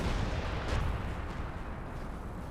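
An artillery barrage rumbles through a Company of Heroes 2 battle as a steady, dense low roar of distant shelling with muffled thuds, fairly faint and continuous, with no one talking.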